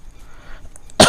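A single short, harsh cough bursts out at the end after near silence, close and loud, from a teacher during a class 10 arithmetic progressions lesson.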